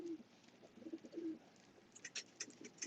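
A pigeon coos softly several times in low, rolling phrases, followed by a few faint higher chirps, all fairly quiet and alone.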